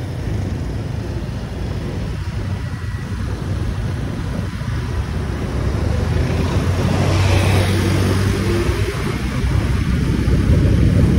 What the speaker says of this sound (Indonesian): Ada mobil lewat teman-teman, mobil unik ya.